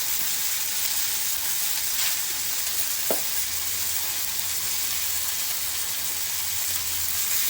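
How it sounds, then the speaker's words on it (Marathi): Flour-and-rava-coated bombil fish sizzling in a pan of hot oil without a lid, a constant close hiss of frying with a brief scrape or stir partway through. "बोंबील तळताना झाकण वगैरे द्यायचं नाही"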